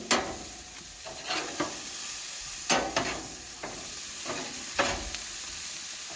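Frozen Angus beef patties cook on a grill over low heat with a steady close sizzle and crackle of grease, broken by brief louder pops and bursts. No one speaks.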